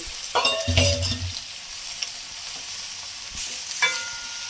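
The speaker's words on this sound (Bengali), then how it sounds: "চিংড়ি মাছটা আমি একটু ভাজা ভাজা করে নেব।" Shrimp sizzle in hot oil in a pan, a continuous close crackle with a few brief utensil scrapes and knocks near the start and end.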